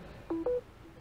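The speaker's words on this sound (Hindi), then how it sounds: "अब उसने डिटेक्ट तो किया कोशिश भी कर रहा है वो आपको आवाज़ सुनाई दिया होगा" A Samsung Galaxy Fold 3 gives a quiet two-note electronic chime, a lower beep then a higher one in quick succession, as it detects wireless power sharing. The chime sits over faint room noise.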